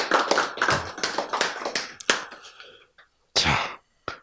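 Audience at a Korean Bible lecture on Naaman bursts into clapping, a dense run of hand claps that tapers off, then a brief second surge and a final few claps; no talking.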